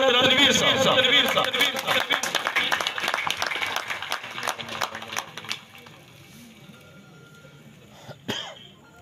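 Audience applause at a pigeon fanciers' function in Faisalabad greets a chief organizer of the Faisalabad Pigeon Flying Association, loud and dense at first, then thinning into scattered claps and coughs, with a sharp knock near the end.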